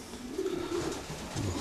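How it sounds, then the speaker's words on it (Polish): A racing pigeon coos close by, a low rolling murmur repeated a couple of times in quick succession. "Tutaj jest gołąb starszy?"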